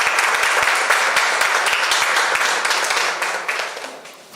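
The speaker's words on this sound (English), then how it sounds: "Give them another round of applause for me," An awards-ceremony audience gives market research finalists a round of applause, close, dense clapping that holds steady and then tapers off over a few seconds.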